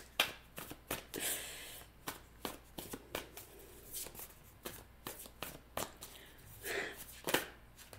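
Tarot cards are shuffled close by for a reading, with quick papery riffles and soft slaps in uneven bursts, fairly quiet and with no talk.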